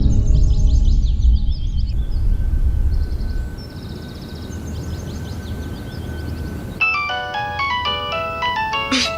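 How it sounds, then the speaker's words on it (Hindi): A phone ringtone plays a repeating electronic chirping melody, fairly loud, pauses for several seconds, then resumes with a brighter, busier tune near the end. "हुमा, मैं तुम्हें कब से फोन कर रही हूँ, तुम फोन क्यों नहीं उठा रही थी?"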